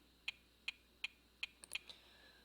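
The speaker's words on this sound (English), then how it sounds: "I found a good sound. It's called wood tap." Scratch's wood tap sound effect plays as four evenly spaced, crisp knocks, then a quicker cluster of lighter taps, all clean and isolated against near silence.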